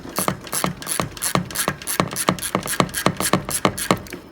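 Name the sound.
ratchet loosening Harley Dyna transmission drain plug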